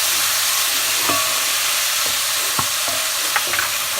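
Tomatoes sizzle and fry in a pot for vegan minestrone soup, with a steady hiss broken by a few sharp scrapes and clicks as a spoon stirs them.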